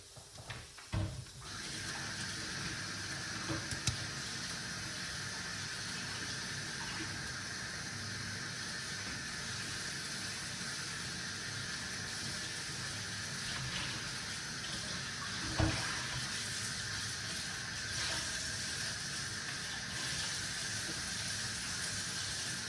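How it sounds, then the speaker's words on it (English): A kitchen tap running steadily over cooking ingredients being rinsed: a continuous, even hiss and splash of flowing water, close and unchanging for a long stretch, with a couple of brief knocks. "I'm going to rinse off my ingredients, which I'm going to be using."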